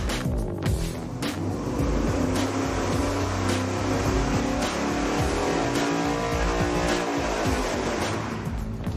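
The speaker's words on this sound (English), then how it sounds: "Let's go dyno test it with 12-inch extensions." An engine runs steadily on a dyno fitted with 12-inch header collector extensions, giving a loud, continuous roar with a dense low rumble that holds level for the whole stretch.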